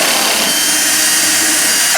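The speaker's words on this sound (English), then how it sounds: "we got to get into this side cover, so we got to pop these screws off" A power drill backs screws out of the side cover of a new 50,000 BTU Mr Heater propane furnace in a shed, whirring steadily and loudly before stopping abruptly at the end.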